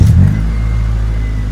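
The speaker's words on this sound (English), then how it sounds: "let's get this thing started up. At least rev it up. See what it sounds like." Honda Civic Si with a B16 engine and new intake, just after first startup: a loud, close blip of revving that quickly drops back to a steady deep idle rumble.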